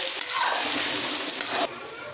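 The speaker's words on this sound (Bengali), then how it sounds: "পেঁয়াজটা যতক্ষণ না গোল্ডেন ব্রাউন হয়ে ভাজা হচ্ছে ততক্ষণ কিন্তু পেঁয়াজটাকে আমি ভাজতে থাকবো" Sliced onions fry in hot oil for biryani with a steady, bright sizzle and some faint stirring. The hiss holds level, then drops slightly softer near the end.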